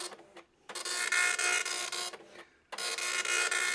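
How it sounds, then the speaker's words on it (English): Commodore MPS 803, an early low-cost dot matrix printer, prints in two loud, close bursts of buzzing, rasping print-head chatter separated by a short pause, with a brief start at the beginning and no talk. "it is a very early dot matrix printer that was made at low cost"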